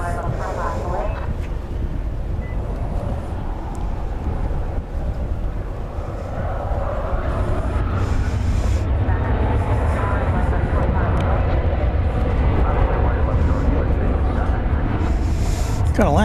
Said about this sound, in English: Got Alaska Airlines taking off over here.